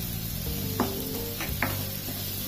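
Pav bhaji masala and chili powder sizzle steadily in a hot pan, with a few light scrapes of a spoon as the spiced mixture is stirred, all fairly faint and without talking.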